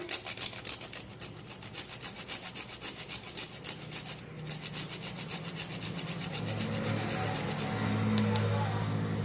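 Nutmeg is grated by hand for a sweet jaggery and wheat-flour puri dough, a rapid rhythmic rasping scrape of repeated strokes, close and fairly quiet, growing a little fuller toward the end, with no talking.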